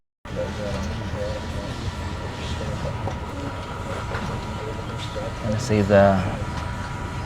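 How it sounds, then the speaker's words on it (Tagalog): A train rolls slowly along the rails in Morocco, heard from inside the carriage as a steady low rumble and hum with faint clatter. A person talks briefly over it. "Bagal lang train pa."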